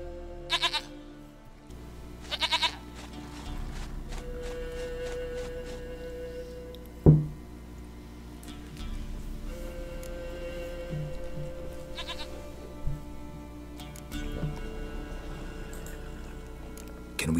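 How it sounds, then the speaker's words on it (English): A goat bleats repeatedly in The Witcher 3 game, the cries coming in several separate bursts over a steady background of ambient game music and sound, with a sharp knock or thud partway through. "Goat of mine, dearest, sweetest goat."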